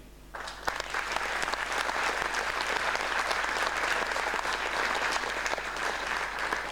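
At a French municipal New Year's greetings ceremony, an audience breaks into warm applause for local elected officials, rising quickly and holding steady and full for several seconds.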